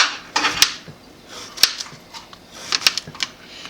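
Sharp knife chopping cucumber on a cutting board for a Nigerian salad, a few quick clusters of crisp, close taps with short pauses between them, no talking.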